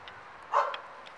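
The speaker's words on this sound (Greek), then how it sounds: "Σταμάτα ρε σκυλέ." A single dog barks once at a stadium construction site, a short, fairly loud bark standing out against faint background noise, with a few softer sounds around it.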